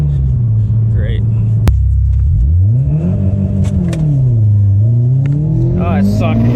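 A big-turbo Subaru STI with a swapped exhaust rumbles low, then revs up and rises in pitch as it launches hard, dips, and climbs again, loud and close.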